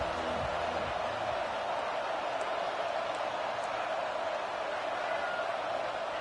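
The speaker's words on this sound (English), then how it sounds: "This crowd ready to make its presence known." Stadium crowd noise in the College Football 25 video game, a steady, broad roar from a large crowd that stays even and continuous throughout, with a commentator's voice faintly underneath.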